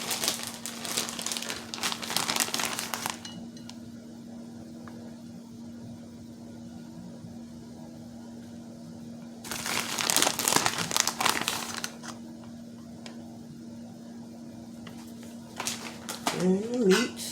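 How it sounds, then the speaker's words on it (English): Aluminum foil is crinkled over a lasagna dish in two loud, crackling bursts separated by a quiet stretch with a low hum; a brief voice comes in near the end. "I'm going to put foil on it."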